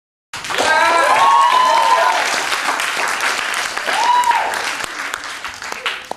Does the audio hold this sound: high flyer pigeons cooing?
no